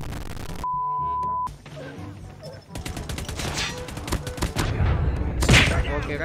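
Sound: gunfire from weapon in Call of Duty Mobile video game

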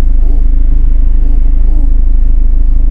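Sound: car driving on a road

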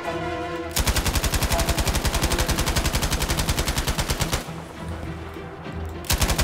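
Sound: machine gun fire in video game Battlefield 5

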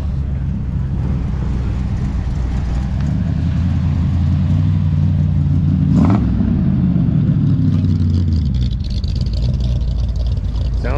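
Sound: car with a 502 engine driving by

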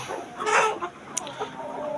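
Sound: chickens clucking

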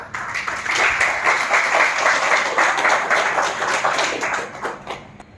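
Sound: audience clapping

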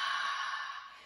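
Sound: exhale breath during yoga breathing exercise

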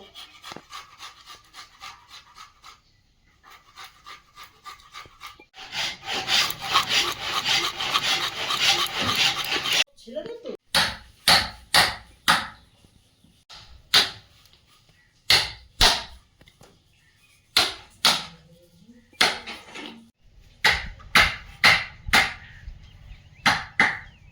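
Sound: chopping ginger and garlic into small pieces

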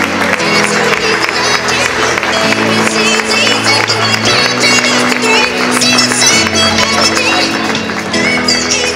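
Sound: audience applause for a player introduction

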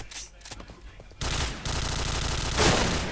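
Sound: sniper rifle shots in video game Point Blank

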